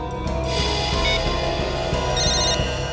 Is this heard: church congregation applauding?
no